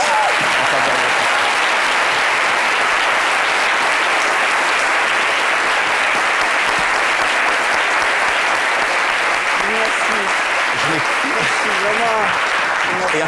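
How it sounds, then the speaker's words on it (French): An audience applauding at a tribute event, dense and sustained clapping at full strength for the whole stretch, with faint voices surfacing near the end. "Et à travers tous ces applaudissements"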